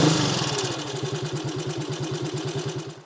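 A Matchless G11 motorcycle engine runs slightly smoky, a close, steady low thumping idle with an even pulsing beat and mild rises in revs over a few seconds before a brief click at the end.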